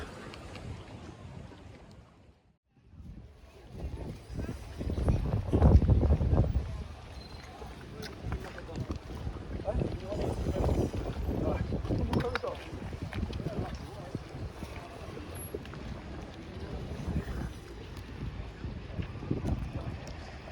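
Kassiopi Harbour on Corfu, with a sailing yacht moored at the harbour wall, carries open outdoor ambience of wind buffeting the microphone, lapping water and distant activity, while people talk through much of it and a loud gust swells midway.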